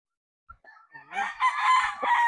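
Sweater-breed gamefowl broadstag crowing once at close range, a rising strained call that swells and holds loud to the end after a brief quiet start.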